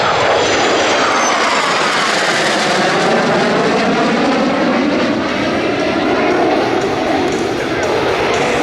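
A Rafale Marine fighter jet of Flottille 17F flies past at an air show with its afterburner lit, a loud, continuous roaring rush that sweeps across and stays strong throughout, with a commentator talking over it.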